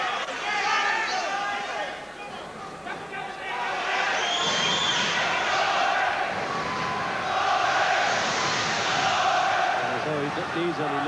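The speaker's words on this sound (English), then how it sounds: "The whole crowd there giving the McCrory chant" Boxing arena crowd at the 1989 Glenn McCrory vs Patrick Lumumba fight, a dense, loud roar of massed voices with swelling rhythmic chanting sustained throughout, rising again in the second half.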